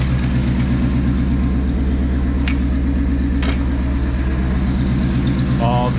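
A 2024 Mustang GT V8 fitted with a Steeda cold air intake idles with a loud, steady, low rumble that stays constant throughout, with a couple of brief clicks over the top.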